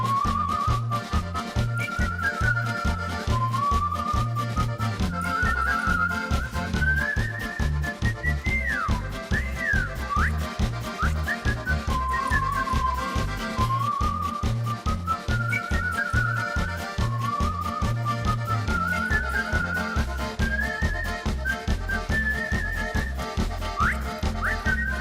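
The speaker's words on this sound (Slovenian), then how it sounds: "in žvižgamo si vmes" People whistle a bright marching tune in unison over a steady oom-pah accompaniment, the melody carried clearly and continuously throughout with no talking.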